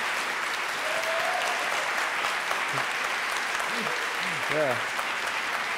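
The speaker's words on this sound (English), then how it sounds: "everyone give a round of applause" An audience at a violin masterclass claps continuously, a broad even patter of hands, while a voice briefly speaks over it.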